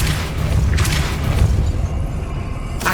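The Depulso force spell in the Hogwarts Legacy video game lands as a loud, dense low-end boom that rumbles for a few seconds.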